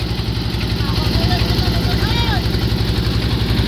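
A fishing trawler's engine chugs on Kaptai Lake in a loud, steady low-pitched pulse, with people talking over it.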